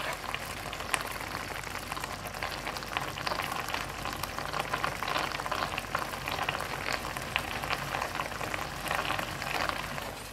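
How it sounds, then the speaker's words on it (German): A mushroom and onion mixture for beef Wellington simmering in a pan, a steady dense bubbling sizzle with fine crackles throughout, close and even in loudness with no talking. "Aber wir haben das Ganze jetzt richtig schön köcheln lassen."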